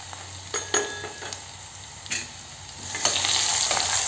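Garlic and ginger paste stirred in a hot pan gives a soft sizzle broken by a few scraping strokes of a spoon, rising to a louder, steadier fry toward the end.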